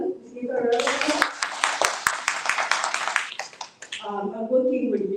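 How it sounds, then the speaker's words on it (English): A short burst of audience applause, many hands clapping for about three seconds, with a voice speaking just before and after. "Let's give her a round of applause."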